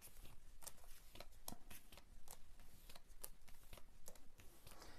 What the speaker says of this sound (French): Et je vais battre pour un second tirage